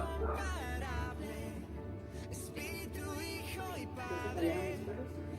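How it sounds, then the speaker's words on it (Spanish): Several dogs barking and yipping at a distance, overlapping with whines and howl-like cries, a continuous agitated chorus with no talk. "estoy escuchando perros"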